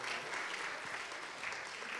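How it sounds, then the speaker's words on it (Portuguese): An audience at a social media event in São Paulo claps steadily, a dense, continuous wash of applause filling the room with a faint voice underneath. "Palmas, por favor."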